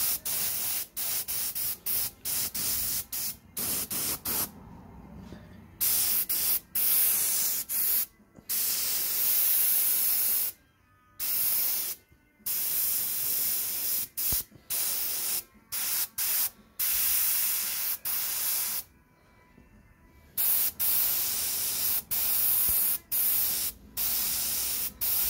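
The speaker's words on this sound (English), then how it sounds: "another thing is that I'm using one airbrush, I'm not using like multiple airbrushes." An airbrush sprays in short, repeated hissing bursts while shading a design, with brief silent pauses between passes and a steady on-off rhythm.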